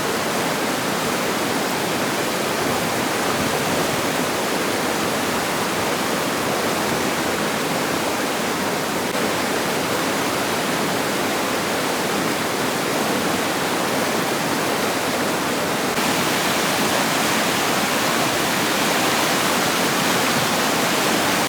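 River water rushes steadily and loudly throughout, a dense, unbroken roar like a stream or small waterfall close by, with no voices.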